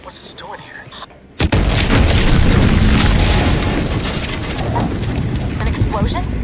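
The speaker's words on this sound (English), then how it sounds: "An explosion?" A sudden heavy explosion booms in the video game The Outer Worlds 2, breaking a quiet scene and leaving a loud, sustained rumble and roar that trails on for several seconds, with voices speaking over it.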